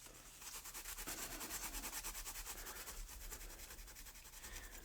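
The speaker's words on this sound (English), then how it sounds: "That Scotch-Brite does such a good job for prepping these things." Scotch-Brite pad scrubbing Hot Wheels car parts, a fast rhythmic back-and-forth scratching that repeats steadily, close but quiet, with no talking.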